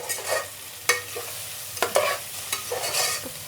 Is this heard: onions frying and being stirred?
yes